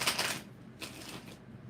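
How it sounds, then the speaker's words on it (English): A tarot card deck is shuffled in two short, papery riffling bursts, close but quiet, with a soft lull between them. "We're going to do 5 shuffles, Thalia."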